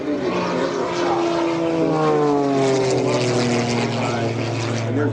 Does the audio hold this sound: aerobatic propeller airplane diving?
yes